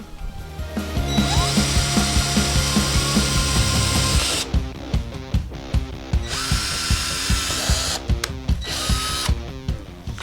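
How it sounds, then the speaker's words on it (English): A power drill whines loudly and steadily as it bores through the fiberglass shroud of a C5 Corvette, then bursts of drilling alternate with short pauses and a stuttering motor rhythm. "There's 12 places that you're going to end up drilling through the shroud."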